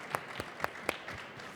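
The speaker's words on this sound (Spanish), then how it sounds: "Un aplauso." A small audience claps at a printing conference session, giving a short run of sparse, separate claps at a steady rhythm, fairly faint and alone.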